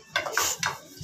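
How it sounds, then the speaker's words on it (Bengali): Dishes, pots and pans clatter as domestic helpers sit scrubbing a large pile of kitchenware, including karai woks, with a few sharp clinks and scrapes in quick succession, close by and moderately loud. "কাজের মাসিগুলো এখন বাসন নিয়ে বসেছে"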